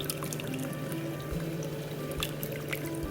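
Dissolved tamarind water is poured into a pot of sambar, a quiet, steady trickle and splash with a few faint drips, heard up close over low kitchen background noise.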